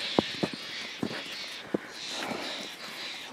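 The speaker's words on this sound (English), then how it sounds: "Some loud ass birds up there." Crows cawing overhead along a snowy hiking trail at Sunset Ridge, several sharp, loud calls spaced irregularly over a soft, windy outdoor background.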